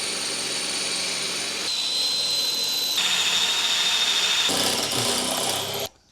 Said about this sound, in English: these self-tappers go into the frame. So we're just going to drill them out.